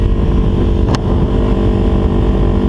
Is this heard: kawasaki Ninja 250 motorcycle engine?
yes